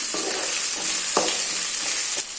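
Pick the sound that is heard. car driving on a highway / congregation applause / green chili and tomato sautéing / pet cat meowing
green chili and tomato sautéing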